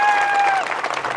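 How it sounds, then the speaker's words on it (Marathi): Crowd at a Hindu community protest rally in Dhebewadi breaking into a burst of clapping, loud and dense at first, then thinning and fading out after about a second. "टाळी वाजवा एकदा."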